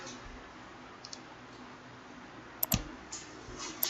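Computer mouse clicks while working in InPage Urdu software: a few faint, sharp clicks, including a quick double click, spaced sparsely over a low, steady room hiss.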